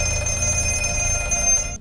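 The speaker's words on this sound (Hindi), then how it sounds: "तभी दोबारा फोन बजता है" A telephone rings continuously in a shrill, steady electronic trill, loud and close, lasting the whole short stretch before cutting off.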